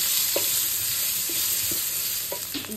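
Onions softening with turmeric in a hot pan give a steady, loud sizzle that fills the whole clip, with a few soft utensil scrapes and stirring knocks on top.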